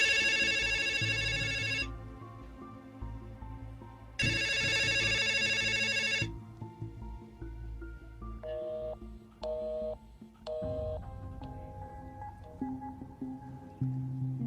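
An old telephone line rings in two long, loud bursts separated by a pause. Fainter dial and switching tones follow on the line, and there is no talking.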